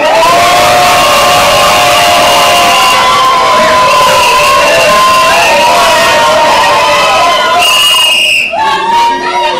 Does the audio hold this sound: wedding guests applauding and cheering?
yes